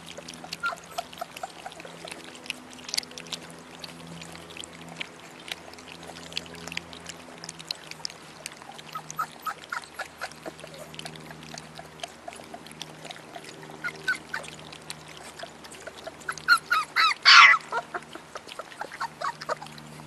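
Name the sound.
dogs drinking water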